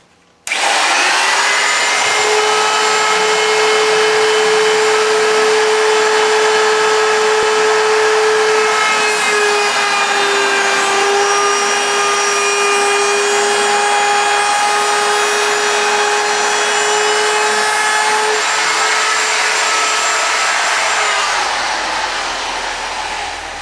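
A wood carving tool works on a repair patch for a cylinder front desk, giving a steady, close, high-pitched whine with bright harmonics that holds for about twenty seconds with no speech.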